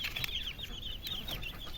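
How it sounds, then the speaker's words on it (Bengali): Aseel and desi chickens wander under a cot on a home farm, giving soft, close, repeated clucks and murmurs over a low background rumble. "যে মুরগিগুলো হয়তো দেখতে পাচ্ছ খাটিয়ার নিচে ঘোরাঘুরি করছে"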